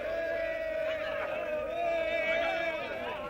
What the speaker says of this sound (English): Outside Fort Ussher Prison, the crowd are waiting for the release of more of Nkrumah's political prisoners.